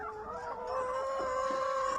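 Hens cluck and call with drawn-out, wavering tones close by, crowded around a nest box in a backyard coop, a steady, insistent chorus with no talk.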